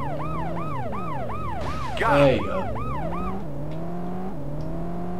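A wailing police car siren sweeps up and down repeatedly in the video game World's Scariest Police Chases, then shifts to a steadier tone, with a brief crash and a short spoken remark midway.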